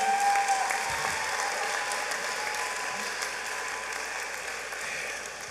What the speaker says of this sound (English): Y'all give her one more applause, please.